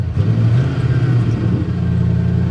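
A Ford F150 truck engine idling high, a steady, close, low rumbling drone with a slight waver and no voices.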